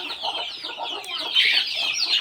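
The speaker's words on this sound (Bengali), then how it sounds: "আমার খামারের ভিতর মুরগি আমি ছাড়া দিছি একদম খোলা" Free-range native chickens roam loose inside a small farm, giving a continuous chorus of clucks and chirping calls at close range with no talking.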